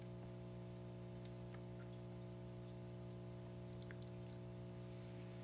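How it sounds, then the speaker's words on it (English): Crickets kept as feeder insects in a reptile keeping room, chirping in a steady, continuous high-pitched trill over a constant low electrical hum, fairly faint with no talk. "They're eating a ton of crickets."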